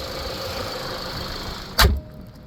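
A 2017 Kia Optima engine idles quietly with a low steady hum, then a single sharp thump cuts in near the end.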